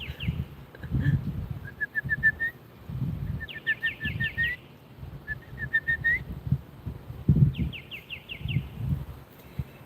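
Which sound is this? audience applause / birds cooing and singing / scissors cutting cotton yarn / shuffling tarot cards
birds cooing and singing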